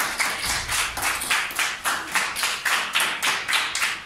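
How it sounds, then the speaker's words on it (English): A Grade 4 classroom of students applauding in unison, rhythmic group clapping in an even, steady beat of about three claps per second, close and fairly loud. "Give them a round of applause."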